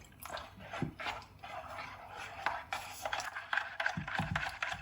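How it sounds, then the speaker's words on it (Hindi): Water is poured into a thin flour batter, giving soft trickling and dripping splashes that come and go over a few seconds, fairly quiet and close, with a faint voice in the background. "इसमें थोड़ा और पानी ऐड करेंगे।"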